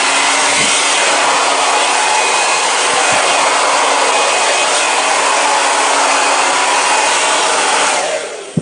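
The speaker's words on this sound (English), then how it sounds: "this hair dryer my mom got me last year for Christmas is specifically for my hair" A hair dryer blows with a loud, steady roar close by, running continuously before winding down at the end.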